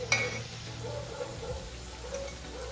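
Bitter gourd (karela) frying in oil in a home kitchen, a quiet steady sizzle with a faint clink near the start, no talk.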